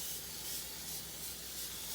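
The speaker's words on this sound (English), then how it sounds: "we're just going to spray it with our homemade cleaner we made a while back" A faint, continuous hissing spray of homemade cleaner onto a front-load washing machine, with some rubbing underneath, steady for the whole moment and recorded quietly.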